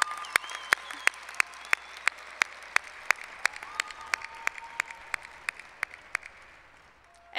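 Audience applause at a 2014 North Hennepin Community College graduation ceremony: a steady wash of crowd clapping with a few sharp, evenly spaced claps standing out near the front, fading slightly toward the end.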